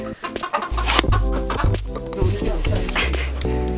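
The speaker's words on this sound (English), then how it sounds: "Look at these cool chickens." Chickens cluck and murmur close by while a person talks over them, with some brief noisy bursts in between.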